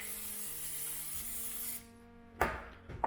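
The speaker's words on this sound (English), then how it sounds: "coconut cooking oil spray" Coconut cooking oil spray hissing steadily from a can into a bread pan, a loud continuous spray for about two seconds, then stopping, followed by a couple of sharp handling knocks.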